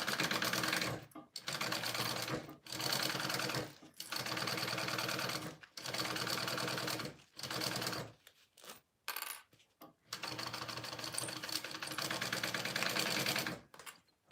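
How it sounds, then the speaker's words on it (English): An electric sewing machine stitches a quarter-inch seam on a Momexa project, running in loud, steady bursts of several seconds separated by short pauses and a few quick clicks. "So I'm going to sew this now at a 1/4 inch seam allowance."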